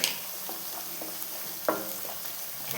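Curry leaves hit hot oil for a chicken curry, a soft steady sizzle with a few small crackles and a light clink of utensils, close and quiet.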